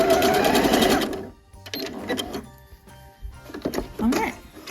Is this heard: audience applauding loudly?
no